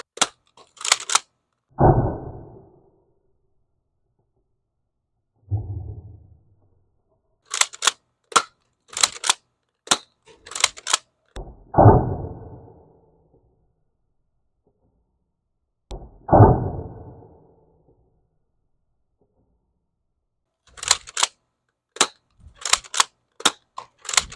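X-Shot Lock Blaster toy gun firing Nerf-style bullet-tip foam darts, loud sharp pops spaced several seconds apart, each followed by a brief thud, interleaved with clicky loading and cocking clatter, no talk.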